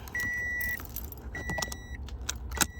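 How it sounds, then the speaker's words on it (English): Metal keys jangle and clink while being pulled from the ignition of a 2014-2016 Toyota Corolla, with a steady electronic chime sounding twice in the car and scattered sharp clicks and rattles close by. "you're gonna pull the keys out when you push that in"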